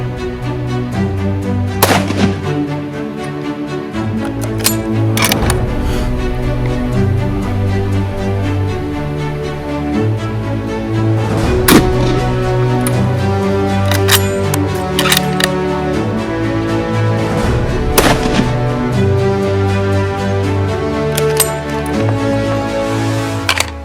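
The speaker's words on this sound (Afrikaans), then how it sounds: "Ons gaan nou 'n paar skote skiet om hom in te stel" Several loud, sharp rifle shots from a Winchester Model 70 in .416 Remington Magnum fired while sighting in, spaced irregularly with long ringing decays over a steady background.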